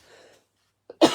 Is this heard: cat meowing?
no